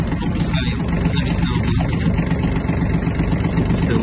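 A Kubota B1-17 Japanese mini tractor's engine idles as it warms up, a loud, steady, close-up diesel drone with a constant low rumble throughout.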